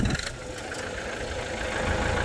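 An M108S farm tractor idles nearby with a steady, low engine rumble and faint knocking pulses, even and unbroken for a couple of seconds with no voices.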